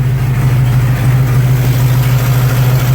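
A 1936 Buick engine idles close by, a loud, steady low hum with an even rhythmic rumble, warming back up while dealing with an overheating problem.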